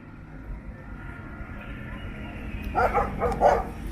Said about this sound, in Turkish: Büyük ihtimal bize havlayacak köpekler ya da bizle alakası yok.